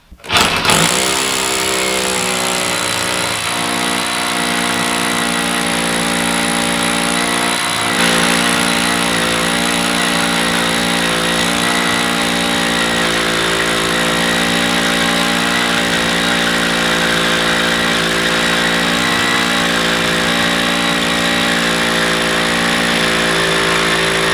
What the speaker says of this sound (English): We're going to drill on the other side here if we can.